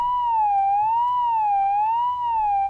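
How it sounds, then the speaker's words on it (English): Sine-wave LFO pitch modulation on a synth tone in Kontakt, a pure tone wobbling slowly up and down like an old police siren, steady and clean for under three seconds before cutting off. "it gave us LFO, but it just sounds like an old police siren"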